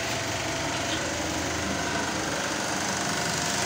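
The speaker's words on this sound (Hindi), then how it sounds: "सामने आप देख सकते हैं लेथ मशीन चल रही है" A lathe turning black granite to make a large stone mortar in a Taxila workshop gives a loud, steady broadband roar and hum throughout, with no voices.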